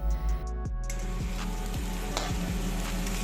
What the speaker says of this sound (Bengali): দেখুন আলুটা মোটামুটি ভাজা ভাজা হয়ে গেছে।